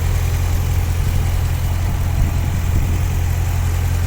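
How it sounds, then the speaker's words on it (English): The 6.4L V8 of a 2020 Dodge Challenger R/T Scat Pack idles with a deep, steady rumble, low and throbbing with a constant vibration, close by and with no voices over it. "Very nice engine."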